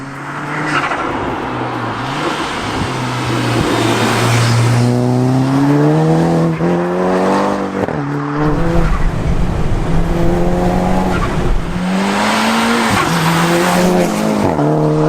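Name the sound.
show car driving with engine and tire squeal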